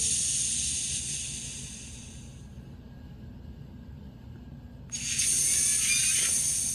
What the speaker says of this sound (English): when you start to move the model, you hear the air brakes release automatically